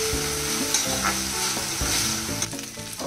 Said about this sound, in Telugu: ఇంకా రొయ్యల్ని వేసుకొని బాగా ఫ్రై చేసుకోవాలండి ఆయిల్లో.